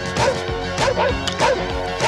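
A dog barks in a film scene, several loud yapping barks in quick uneven bursts mixed with clattering and background noise from a picnic mishap.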